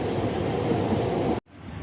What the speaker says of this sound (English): another type of transport is a train like this one. These are the trains which go across Gauteng.